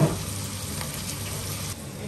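Food frying on low heat in a pan, a soft steady sizzle close by, quiet and unbroken with no talk.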